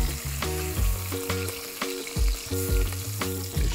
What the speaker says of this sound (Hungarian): Erre a finom sülő zsírra megy rá az árpa gyöngy.